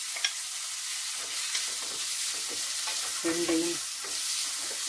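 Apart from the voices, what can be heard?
onion and green chilies frying in oil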